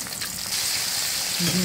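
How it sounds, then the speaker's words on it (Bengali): Prawns fry with onions and cumin in oil, a brief close bright sizzle that swells slightly, with a voice starting faintly at the end. "পেঁয়াজের সাথে চিংড়ি মাছগুলো ভেজে নিব।"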